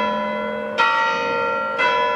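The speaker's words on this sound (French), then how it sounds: "bientôt il va y avoir les cloches" Church bells ring with long sustained tones, two fresh strikes about a second apart, each swelling and then slowly decaying, loud and close with nothing else heard.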